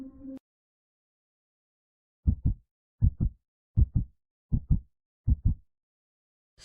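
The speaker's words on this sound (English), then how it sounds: "I can hear his heart beating fast." A fast heartbeat sound effect: six paired lub-dub thumps in a steady quick rhythm, loud and close, following a brief low rumble at the start and otherwise surrounded by silence.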